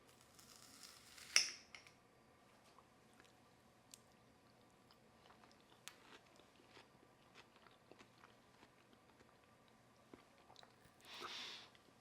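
A bite of cottage cheese ice cream made with peanut butter and vanilla is chewed in a quiet room, giving faint, soft, sporadic mouth clicks and squishes, with a brief louder bump early on.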